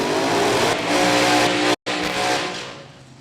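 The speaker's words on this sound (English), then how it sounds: "Andy Voigt from Wichita Falls has the supercharged slingshot dragster fired up in the Toyota lane." A supercharged slingshot dragster idles and revs loudly in the staging lane at a drag strip during Funny Car qualifying, a dense roaring drone with one abrupt cutout near the middle.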